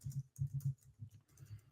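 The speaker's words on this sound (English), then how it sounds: "I'm typing very, very fast." Quick, fast typing on a computer keyboard, a burst of soft close key clicks in uneven rapid clusters with short pauses between them.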